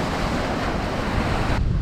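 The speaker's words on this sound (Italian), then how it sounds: "c'è molto vento laterale" Strong side wind buffets the microphone at the sea while fishing for sea bass from the shore, a loud, continuous roaring rush blended with surf that barely changes before a slight drop at the end.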